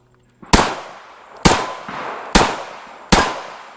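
Four sharp pistol shots from a CZ P-10 C Ported firing subsonic ammo, evenly spaced about a second apart, each a loud close crack with a short decaying tail.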